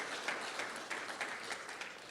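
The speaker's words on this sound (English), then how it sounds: "I think they deserve a round of applause for the effort that they have" Brief, steady applause from a seated audience for presenters at a public forum on emergency preparedness in Hawai'i, moderately loud and even throughout.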